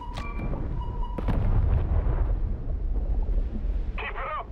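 A submarine's torpedo explodes in the naval combat game War Thunder Mobile, a loud, heavy low rumbling blast that swells and rolls on for several seconds, with brief tonal game effects at the start and a short chirp near the end.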